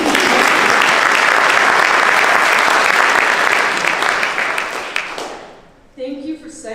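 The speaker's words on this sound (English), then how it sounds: "We clap for that." A baccalaureate audience claps loudly and steadily, a full room of hands that fades out after about five seconds, followed by a voice beginning to speak.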